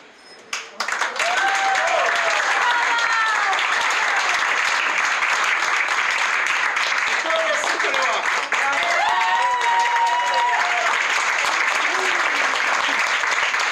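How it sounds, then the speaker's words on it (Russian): A concert audience breaks into loud, sustained applause and ovation for a Russian musician, dense clapping filling the whole stretch right after a brief quiet start, with scattered voices and cheers mixed in. "Публика благодарила меня такими бурными овациями, аплодисментами."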